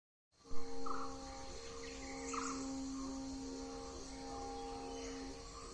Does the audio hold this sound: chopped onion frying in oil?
no